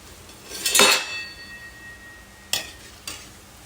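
Panchratan dal vadas dropped into hot oil in a pan, a soft sizzling hiss rising once and fading, followed by two brief clinks of a utensil against the pan, all fairly quiet and close.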